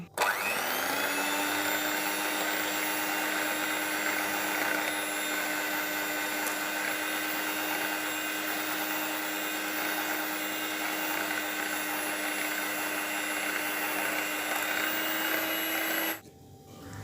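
A steady, loud electric beater motor whine, whipping cream with condensed milk, runs continuously for about sixteen seconds, then cuts off abruptly; no voices.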